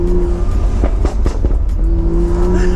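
A BMW M3 engine revs and accelerates, kept around 3,000 RPM while still not fully warm. It is loud and close, with a continuous throaty roar and rising pitch.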